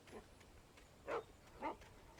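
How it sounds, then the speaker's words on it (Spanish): A dog barks somewhere out of sight in the horror video game Alan Wake, two faint, distant barks spaced about half a second apart over quiet ambience. "escucho al perro ladrar, pero pues no he visto al perro físicamente todavía"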